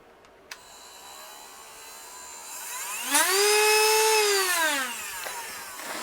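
A Dremel 8220 12-volt cordless rotary tool spins up to full speed, a high whining tone that rises, holds loud and close for about two seconds, then winds down, with a faint click beforehand.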